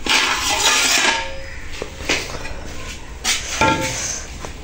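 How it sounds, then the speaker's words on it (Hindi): Metal dishes and utensils clank and clink as they are picked up and set down, several close, sharp knocks and scrapes at an uneven pace, with no talking. "अभी मैं बर्तन उठाती हूँ और इसको डालती हूँ उसमें।"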